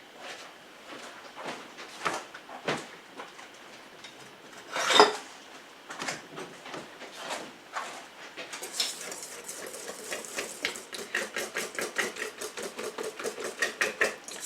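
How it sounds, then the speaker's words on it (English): Dry muffin ingredients, including baking powder and baking soda, whisked in a bowl: scattered taps and clinks at first, then a steady rapid rhythm of whisk strokes against the bowl, fairly close. "I just need to whisk in my dry ingredients"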